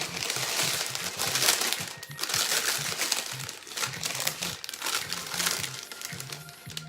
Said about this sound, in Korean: 비닐을 먼저 꼭 넣어주신 후에